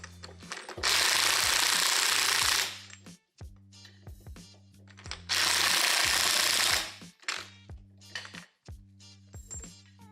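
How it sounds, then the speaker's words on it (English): Two long, loud bursts of a pneumatic impact gun hammering on the pinion yoke of a Dana 60 axle, each lasting about two seconds, separated by clanks and ratchety metal handling in a garage. "I am not running the bearings down with the impact gun. I'm simply sucking the yoke in until it has like no play"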